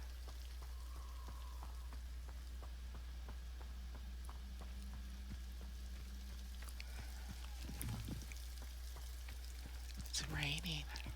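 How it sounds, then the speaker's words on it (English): Rain falling in the video game Hogwarts Legacy, a faint, steady patter with light dripping ticks, later joined by brief game sounds and a voice. "It's raining."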